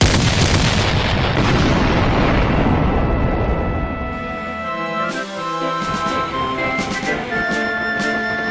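A volley of gunfire on command in an animated Sodor railway story, a loud dense burst of shots and booms that rolls for several seconds before decaying into a fading ringing tail.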